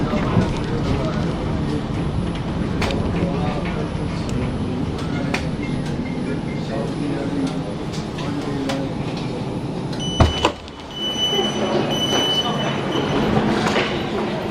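Birmingham tram in motion, a steady rumbling run with wheel and motor hum, faint squeals and clicks from the track, and a brief clunk before the noise continues.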